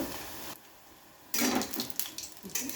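Sago pakoras frying in hot oil: a quiet stretch, then a sudden loud bubbling crackle of frying with clinks of utensils, close by and uneven.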